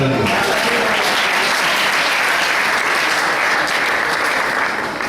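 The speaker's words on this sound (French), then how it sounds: "Acclamons Vanessa." A church congregation bursts into loud, sustained applause filling the room, dense clapping from a large crowd that holds steady for several seconds before easing slightly at the end.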